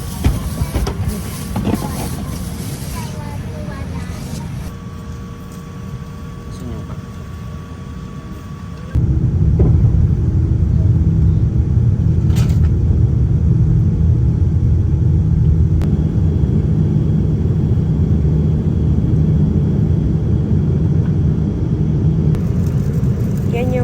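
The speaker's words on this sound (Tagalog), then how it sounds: "Dito na kami sa loob ng aeroplano." Steady low engine rumble inside an airliner cabin on a flight from Japan to Thailand, a constant drone that grows heavier partway through, with occasional cabin noises and voices.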